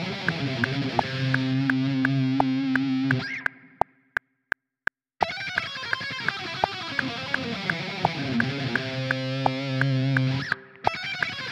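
Distorted electric guitar jam through Bias FX amp-modelling software, loud sustained chords and riffs with a short near-silent break of sharp clicks in the middle before the playing resumes.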